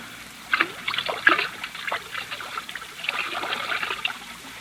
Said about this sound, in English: Pour most of it out, so that it will look as though we had even more to drink.